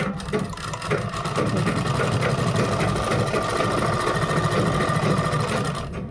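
A sewing machine runs steadily, stitching the neckline of a kurta, a continuous loud mechanical whir with a fast, even rhythm that holds unbroken from start to finish.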